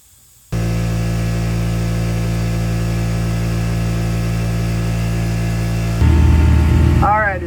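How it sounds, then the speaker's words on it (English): An air compressor drones loudly with a steady low hum beside an idling Jeep engine. It starts abruptly after a quiet moment and shifts in tone near the end. "it's quite a bit loud in here because the air compressor's going"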